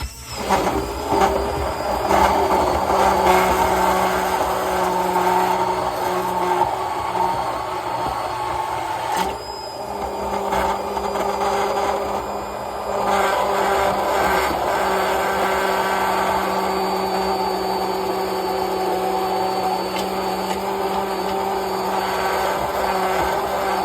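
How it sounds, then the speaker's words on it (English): An immersion blender hums and whirs continuously at close range, with a steady droning pitch and slight changes in load, no speech over it. "And we have our immersion blender. Pop that right in. And ready for the noise."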